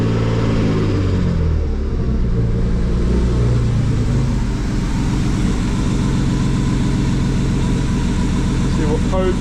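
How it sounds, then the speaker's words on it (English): BMW E36 coupe engine turning over and settling into a steady, loud, close idle with a low rumbling drone, with talking at times. "now we can start her up and see if her codes are gone"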